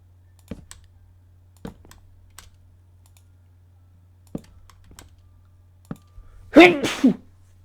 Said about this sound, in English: Oh, that was a surprise sneeze.